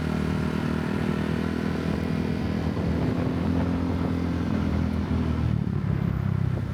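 A motorbike ride in Phuket, Thailand: a steady, close engine drone with rushing wind noise runs continuously, with no talking.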